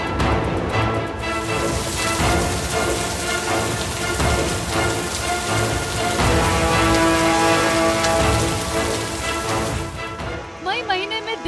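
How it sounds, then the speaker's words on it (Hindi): Steady, heavy rain pours down through a cold, unseasonable May spell in Delhi, a dense continuous hiss with a possible low rumble of thunder, fading near the end. "तेज गर्मी की जगह मई के महीने में बारिश और ठंड हो रही है"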